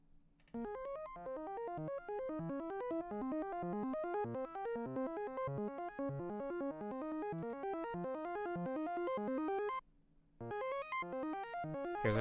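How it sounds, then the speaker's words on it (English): A synthesizer arpeggio in a studio, with quick rippling notes climbing and falling in a steady stream, cutting out briefly before resuming near the end. "Let's jump up and listen to our first ARP."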